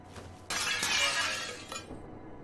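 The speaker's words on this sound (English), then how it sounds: "I damaged my baton when I smashed a window with it" A window is smashed with a baton in the video game Cataclysm: Dark Days Ahead, giving one loud, close burst of shattering glass that rings out for about a second before fading.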